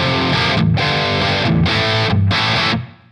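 Heavily distorted electric guitar through a Revv G20 lunchbox amp at aggression level 1 with the amp's reverb: three loud, saturated chugging bursts in a steady rhythm, separated by brief gaps, fading at the end.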